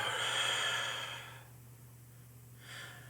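A slow exhale during a calm guided breathing exercise, a long airy breath out that fades for over a second and then returns briefly, near and alone with no talking.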